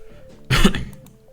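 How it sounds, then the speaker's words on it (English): A single close, harsh cough bursts out over a quiet background hum, then fades quickly. "Sorry about that cough."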